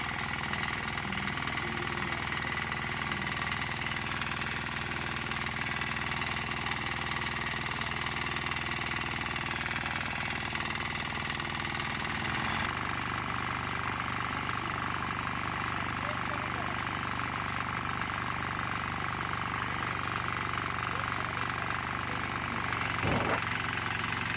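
A tractor engine idles without a break, a constant low mechanical drone, with a brief thump near the end.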